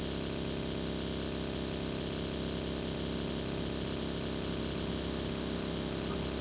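A buggy's engine in a battle royale video game, a constant mid-pitched motor drone that runs unbroken and fairly loud throughout.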